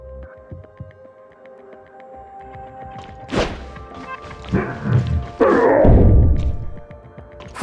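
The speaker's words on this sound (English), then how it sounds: "It sounds like someone's banging on the door." Several heavy thuds of someone banging on a door in Tower of Fantasy, a few separate knocks building into a louder, harder burst of pounding over quiet background music.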